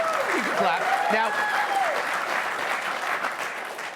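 Crowd applause and cheering at a rally, a sustained wash of clapping with whoops and shouting voices rising over it early on, then settling into steady clapping.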